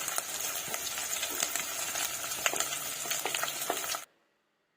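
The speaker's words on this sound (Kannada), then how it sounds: "ಇದು ಈರುಳ್ಳಿ ಎಲ್ಲ ಚೆನ್ನಾಗಿ ಫ್ರೈ ಮಾಡ್ಕೊಳ್ಬೇಕು." Onions fry in hot oil for upma, a continuous close, crackling sizzle with scattered pops that stops abruptly near the end.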